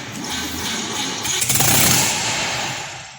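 A rebuilt 6-cylinder 261 engine cranks and catches for its first start, then roars up loudly and close for a moment before settling, with no talk over it.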